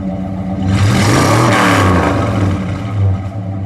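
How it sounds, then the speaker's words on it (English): A 1964 Plymouth Savoy two-door with its original 426 Street Wedge V8 revs up loud and close from idle, holds a rough, throaty high pitch, falls back, then gives a smaller blip near the end, with no talking. "All right, go ahead, give it a rev."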